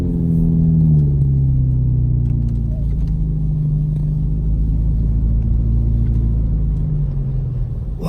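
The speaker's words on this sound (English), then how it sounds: "I was like, wow, it's a cool looking car, but it was a tractor." A tractor rumbles past on a snowy road in Big Bear, a steady, loud low engine drone that holds throughout with a slight change in pitch as it goes by. No one speaks.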